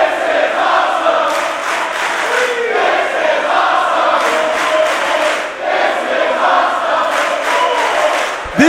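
Crowd at an All Pro Wrestling battle royal roaring, a continuous loud wall of cheering and shouting voices that swells and dips, with no commentary over it.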